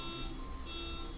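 Electronic car alarm in a city setting, a steady repeating high-pitched beeping tone sounding continuously at moderate distance with no voices over it.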